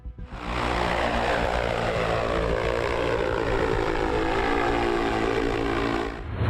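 Propellers of China's X2 electric vertical-takeoff flying car produce a loud, steady, dense whirring drone that holds evenly throughout, with no voices present.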